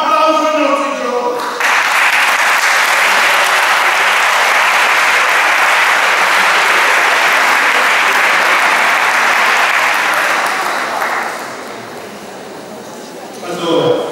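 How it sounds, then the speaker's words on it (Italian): A church audience at a catechesis talk by a missionary breaks into sustained, loud applause for the young people present, a dense steady roar of clapping that fades toward the end. "Un applauso ai nostri"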